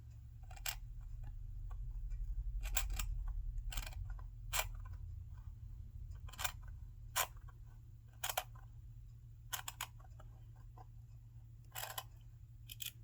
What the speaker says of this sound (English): I'm going to pause and finish trimming this